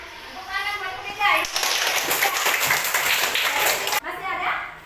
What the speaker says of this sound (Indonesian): tepuk tangan buat Frida